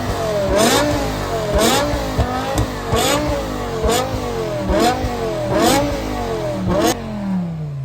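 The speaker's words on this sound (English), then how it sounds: "Oh my gosh, that was a lot of revs" A manual BMW M6 with a V10 engine revs hard in a series of about six sharp, rising blips with brief drops between them, loud and close, with no talking.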